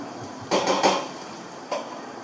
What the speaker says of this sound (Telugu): దీనిపైన మూత పెట్టుకుందాం.